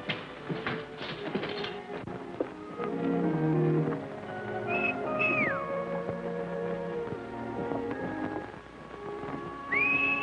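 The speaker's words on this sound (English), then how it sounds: "I could have sworn I recognized that whistle." A few distinct whistles, short sliding tones rising and falling, separated by pauses over a quiet background with faint rustling.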